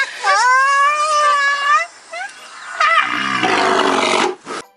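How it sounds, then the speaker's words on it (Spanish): An elephant trumpets in a loud, close, brassy blast lasting a few seconds, with a wavering pitch, followed by a rougher second trumpeting call that breaks off abruptly. "Los elefantes y rinocerontes barritan."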